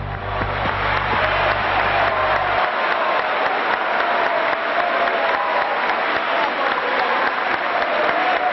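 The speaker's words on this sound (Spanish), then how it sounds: "Todas las miradas se concentraron sobre él y los aplausos estallaron" Applause erupting in the Argentine Chamber of Deputies for Fidel Castro, a dense, steady roar of clapping from a packed hall, loud and unbroken, with a low hum fading out early on.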